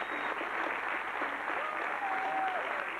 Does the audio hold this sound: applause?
yes